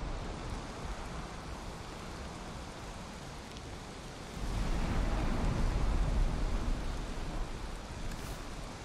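Steady broadband hiss of a rainstorm in the Valheim video game, a constant wash of rain that swells louder partway through and keeps pouring without a break.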